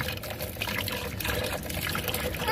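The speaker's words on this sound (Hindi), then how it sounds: "डालो इसके ऊपर पानी डालो।" Water poured over a pet rabbit during a bath, a steady splashing gush that runs continuously and close up with no talk over it.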